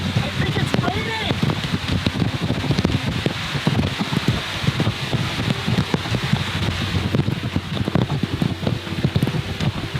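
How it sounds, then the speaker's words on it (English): Rain patters steadily on surfaces in the Amazon with some gusty wind noise, while people talk over it. "I think it's raining."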